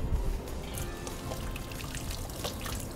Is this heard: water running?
yes